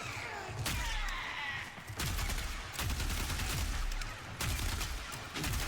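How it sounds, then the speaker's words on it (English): Rapid volleys of gunfire from the video game Warframe, dense and loud, with sharp shots and heavy thuds repeating in bursts throughout. "Can't really hear it over the gunfire."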